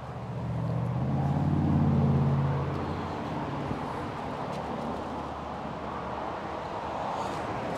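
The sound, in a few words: traffic noise from nearby motorway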